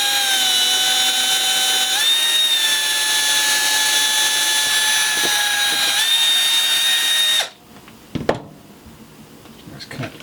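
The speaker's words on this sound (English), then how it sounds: "we're going to go ahead and drill a hole right here between the two vents" A power drill whirs loudly and steadily for several seconds, drilling a hole along a bulkhead between two vents, its pitch dipping slightly twice under load, then cuts off, followed by a few clattering handling sounds.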